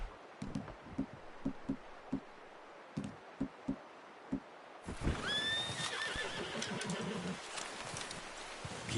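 A horse in Red Dead Redemption 2 lets out a loud, wavering whinny partway through, after a run of slow, soft hoof clip-clops. Faint birdsong and outdoor ambience sit underneath.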